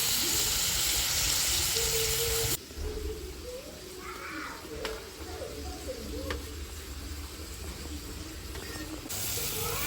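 Hot water, about two cups, is poured into a pot of boiled potatoes and stems while shukto cooks: a loud steady hiss and rush of liquid for a few seconds, then a quieter simmering bubble and faint clatter before the hiss returns.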